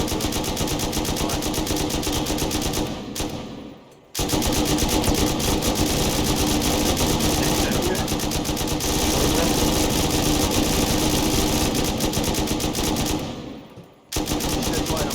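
An automated turret in a video game fires long, loud, continuous bursts of rapid gunfire, broken by two short pauses, with talk mixed in.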